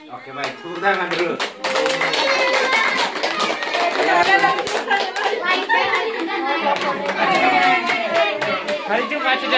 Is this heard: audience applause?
yes